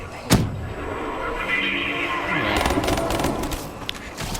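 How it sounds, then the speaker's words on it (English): Grenade explosions in the Call of Duty Black Ops Zombies map Ascension, a sharp blast near the start followed by rumbling, busy game noise and scattered bangs throughout. "Going to use some grenades here."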